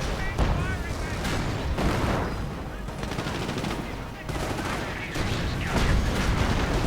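A video game tank battle with a Cromwell tank rages under continuous gunfire, machine-gun rattle, rocket impacts and heavy explosions, dense and loud throughout with brief lulls.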